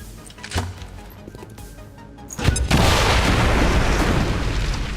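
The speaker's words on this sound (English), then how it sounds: "Throwing grenade" A grenade detonates in XCOM 2 with a heavy boom, followed by a sustained loud roar of debris and rumble after a few quieter clicks and thumps.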